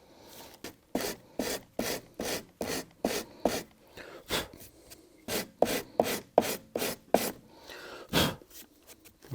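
Coarse 80-grit sandpaper rasping across a Subaru Impreza plastic headlight lens, a steady run of close, harsh back-and-forth strokes in quick rhythm with brief gaps, no talking.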